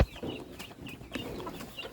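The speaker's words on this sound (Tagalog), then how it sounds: "Ito ang pinakabunso na sisiw." A young chick chirps in short, high peeps among a flock of chicks and chickens on a farm, several calls over two seconds with soft clucking behind.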